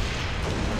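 A single sniper rifle shot in Halo Reach lands as a loud, booming blast that fills the whole short moment.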